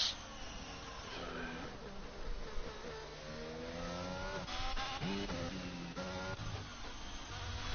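A Ferrari race car in a racing video game at a Spain circuit drones steadily, its engine pitch rising and dropping through repeated gear changes, with brief squeals as it corners.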